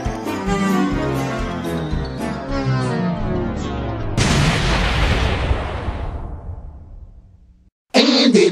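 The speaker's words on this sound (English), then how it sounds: "The shield exploded again." A shield blows up in a long roaring explosion that rumbles and slowly fades, followed by a sharp second loud burst right at the end.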